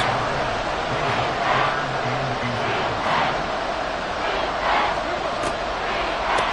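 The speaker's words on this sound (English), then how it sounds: "This crowd trying to force a false start here" Stadium crowd in a Madden football game roaring steadily to force a false start on third and inches, a dense continuous wash of noise with swelling surges throughout.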